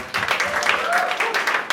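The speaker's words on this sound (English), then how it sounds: "Nasim, can we give her a nice round of applause and love?" Audience applause at a hip hop and education lecture, given for a helper who set up the projector: a short burst of many clapping hands mixed with cheering voices and chatter, moderately close.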